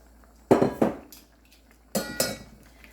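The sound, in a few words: stirring beef tips in a pan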